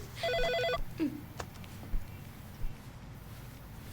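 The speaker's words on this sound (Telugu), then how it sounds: "ఆ ఫోన్ తీయవే" A telephone rings once in a quiet indoor room: a short, clear burst of trilling bell tones at the start, then near silence with faint background hiss.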